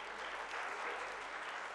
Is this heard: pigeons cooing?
no